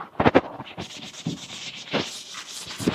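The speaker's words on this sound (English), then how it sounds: "if you use this magic liquid, clean this, wipe it across the grain" A cloth rubs stripping liquid across the grain of a century-old wooden French farmhouse table, giving close, soft scratchy strokes with a few sharper swipes near the start and end.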